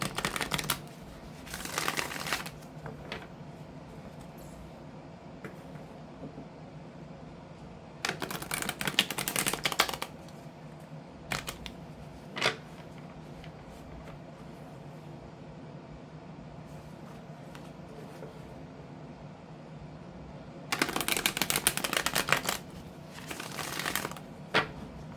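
Tarot cards being shuffled in a quiet room, with three separate bursts of riffling and some softer card handling between them.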